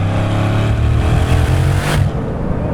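Bugatti Chiron Super Sport accelerating hard as turbo boost builds, a loud close engine roar with rising revs and a brief whoosh near the end.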